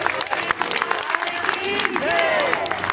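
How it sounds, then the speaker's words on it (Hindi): A crowd gathered at a Shani Dham devotional court claps steadily, a thick rolling applause with voices calling and chanting over it throughout. "सो सारे तालियां बजा दो"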